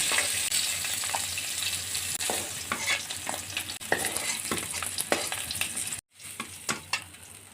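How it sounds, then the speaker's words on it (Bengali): Fish pieces fry in a pan, browning as they are stirred, giving a steady sizzle broken by scraping and clinking strokes, with a brief silence near the end. "বাকি মাছগুলো আমি একটু টুকুচ করে লাল লাল করে ভেজে নিয়েছি এখন আমি তুলে নেব"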